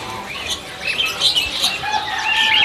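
Busy, overlapping songbird chirps and tweets from caged birds at a bird shop, several birds calling at once at close range against a steady background hum.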